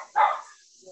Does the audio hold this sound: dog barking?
yes